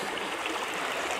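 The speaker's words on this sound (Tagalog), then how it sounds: "O kasi malakas ang agos eh." A river with a strong current rushes steadily, a broad continuous wash of flowing water heard up close with no break.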